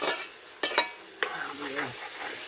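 Ackee tipped into a hot pan, with a few sharp clatters of spoon on pan followed by a quiet, steady sizzle of frying, close by and without talk.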